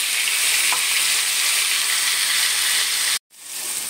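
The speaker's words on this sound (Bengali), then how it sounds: "ভালো করে টমেটো পেঁয়াজ বাটাটা ভালো করে ভেজে নিতে হবে" Ground tomato and onion paste frying in a pan for a Bengali pomfret curry, a loud steady hiss and sizzle that cuts off abruptly near the end, then softly returns.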